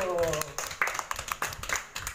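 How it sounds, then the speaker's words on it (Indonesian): Students clap briefly in a classroom during a maths lesson, a short scattered burst mixed with voices and chatter rather than sustained applause. "Tepuk tangan dulu."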